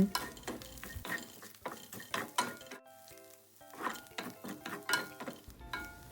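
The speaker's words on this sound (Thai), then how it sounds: "จากนั้นใส่กระเทียมเจียวลงไป ผัดให้เข้ากัน" Minced pork stir-fried with fried garlic in a pan, rhythmic scraping and clinking strokes of a spatula against the pan over a light sizzle, with a brief pause midway, no voices.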